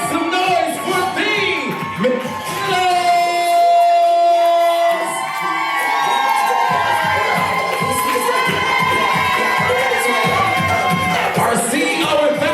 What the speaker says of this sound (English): Let's clap and make some noise